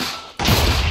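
A single gunshot from a gun in a Minecraft Demon Slayer mod, one sudden thudding blast that cuts in after a brief quiet moment and rings out loud and close.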